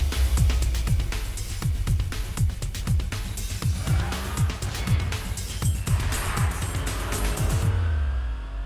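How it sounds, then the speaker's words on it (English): A noisy car drives along a straight road, its engine droning loudly close by with repeated rising and falling sweeps, then receding at the end without anyone talking. "I need a straight road and a noisy car."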